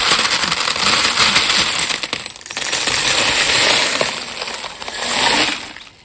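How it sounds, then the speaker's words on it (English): Many small buttons shaken and rummaged inside a jar, giving a dense, continuous clattering rattle up close, swelling and easing in several waves over a few seconds. "it is lots of fun to sort of rummage and shake and rattle through the jar as it is"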